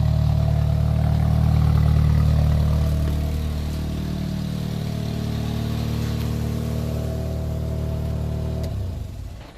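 An old car engine idles fast in a garage, a steady close drone that settles slightly lower after a few seconds, then cuts off near the end.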